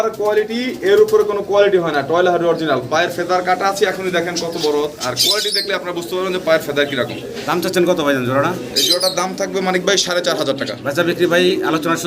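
Farm pigeons coo in low, rolling bursts that continue throughout, close by and fairly loud, heard under steady talking.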